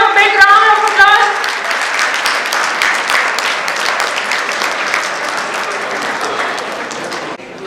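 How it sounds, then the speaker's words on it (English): Loud, sustained applause from a convocation audience for a medal winner fills the space, dense and even, tapering slightly toward the end, with a voice heard briefly at the start. "Ms. Kajal Sharma, can we have a big round of applause"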